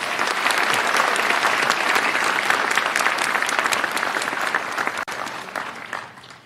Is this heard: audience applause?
yes